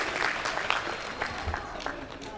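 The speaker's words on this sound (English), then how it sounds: "As she comes to the podium, please, a round of applause." Audience applause fills the room at an Association of Professional Women Builders in Nigeria event as a speaker comes to the podium; steady, moderately loud clapping continues without a break throughout.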